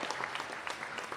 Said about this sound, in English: Give Philly a round of applause.